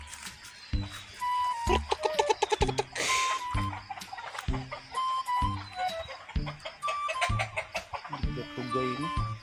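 Farm chickens cluck and squawk repeatedly in a busy, uneven rhythm, close and loud, with a sharper burst of noise midway and people talking intermittently underneath.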